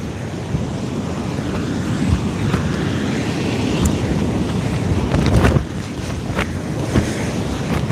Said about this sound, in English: That wind has picked right up.